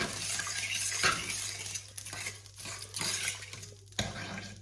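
A spoon stirs a pot of seasoned Jamaican-style pork chops, with a few scraping, clinking strokes against the pot in a loose rhythm over a low steady hum, close and fairly quiet.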